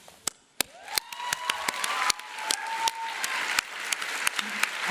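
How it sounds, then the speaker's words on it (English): A crowd claps steadily at a college commencement ceremony, sharp individual claps standing out from a soft wash of applause, with a faint sustained tone running underneath. "I'm just clapping."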